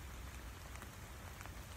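Rain falls steadily, a dense continuous patter of drops on surfaces, even in level and heard alone without any voices.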